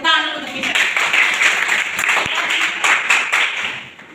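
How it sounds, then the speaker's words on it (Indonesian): Classroom applause for a student who answered a question during a teaching practice lesson, a short burst of scattered clapping from pupils with some voices mixed in. "Oke, tepuk tangan dulu untuk bisa."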